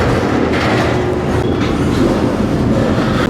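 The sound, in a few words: freight train moving slowly through yard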